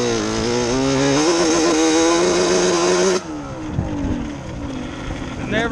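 A 421 Cub motorcycle engine revs loud and steady in second gear with a rising, buzzing drone, then the throttle drops off at about three seconds into a lower, uneven idle.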